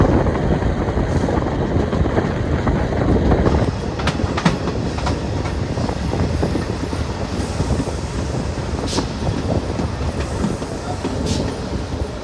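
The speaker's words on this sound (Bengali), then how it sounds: "আমাদের ট্রেনটা কিন্তু শ্রীনগর স্টেশন থেকে ছেড়ে দিল" A passenger train runs from Srinagar toward Banihal, heard from on board with a steady loud rumble and rhythmic clickety-clack of wheels on rails throughout, with occasional brief higher clanks.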